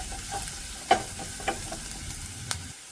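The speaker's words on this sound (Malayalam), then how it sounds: "നല്ലതുപോലെ ഇളക്കി കൊടുക്കാം" A spoon stirs prawn capsicum masala with turmeric in a pan: a few soft scrapes and taps over a quiet, low sizzle, with no voices.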